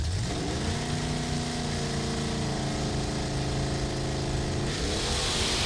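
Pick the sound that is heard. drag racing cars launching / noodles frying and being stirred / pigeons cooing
drag racing cars launching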